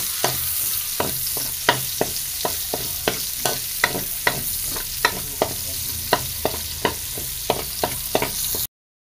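Garlic sautéing in a pan for Filipino ginisang monggo, mung bean soup, after onions. A steady sizzle runs under repeated sharp spatula scrapes and clacks at an even pace, close and fairly loud, with no talking.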